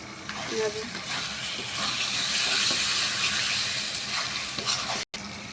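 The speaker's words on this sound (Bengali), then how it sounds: "এরপর এগুলো ভালোভাবে কষে নেব" Young goat meat frying in a pan with cumin and ginger paste sizzles loudly and evenly while being stirred, the hiss holding steady until a brief cut near the end.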